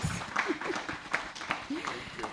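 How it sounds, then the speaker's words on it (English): Scattered audience claps at a Kenyan county investment learning event, a handful of sharp, irregular hits mixed under someone talking. "Can't you clap for us?"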